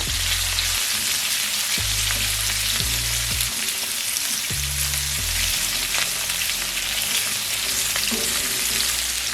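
Asparagus sautés with garlic and ginger in a pan still coated with shrimp seasoning, a loud continuous sizzle and crackle running throughout with occasional stirring scrapes.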